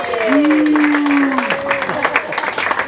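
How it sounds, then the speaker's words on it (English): At a Mansfield live event, a crowd applauds Mr. Simon Mercer with a spread of claps while cheers and voices rise over them, one sustained whoop standing out near the start. "Give him a round of applause"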